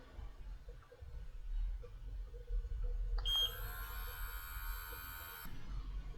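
Quiet room hum, then a small cordless electric hair clipper switches on with a steady high-pitched whine, runs for a few seconds, and stops.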